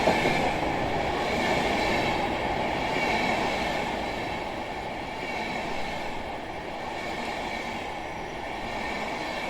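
In Microsoft Flight Simulator 2020, a train rumbles into the station near Schönhagen Airport, Germany, with a continuous rolling drone and light wheel clatter at close range, holding fairly loud and even throughout.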